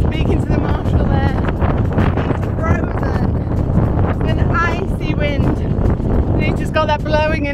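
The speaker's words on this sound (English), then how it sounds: "it's cold and very, very windy" Strong, cold wind buffets the microphone in a constant low roar on an exposed fell hillside during a fell running race, while a person talks over it.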